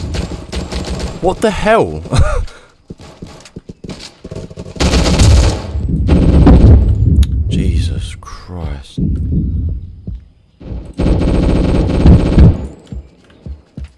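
Rapid automatic gunfire from a player's gun in a Roblox shooter game comes in loud bursts separated by short pauses, with someone speaking excitedly between them.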